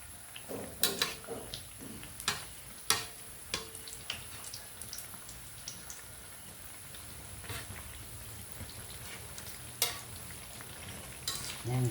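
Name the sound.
mochi frying in a pan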